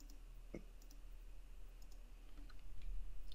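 Computer mouse clicking while working in Adobe Acrobat Pro DC, a few sharp, close, isolated clicks spaced irregularly over a faint steady hum.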